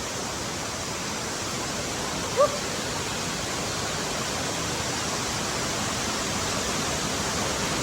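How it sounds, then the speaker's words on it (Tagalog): Water flowing down from above into a small pool in a rural mountain spot, a steady broad rushing wash, even and continuous with no pauses. "Flowing water siya, gikan sa ibabaw hangtod sa ubos."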